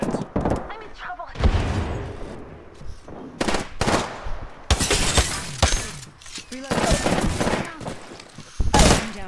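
In Apex Legends, gunfire hits the player: rapid automatic bursts and glassy shattering impacts come in loud, irregular clusters, mixed with heavy thuds, while voices talk over the action.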